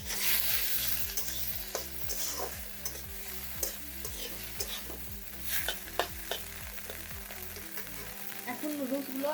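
Loud, close stir-frying in a pan with soy sauce and tomato ketchup, a spatula scraping and tossing in a quick regular rhythm over a constant sizzle, then tapering to a softer bubbling.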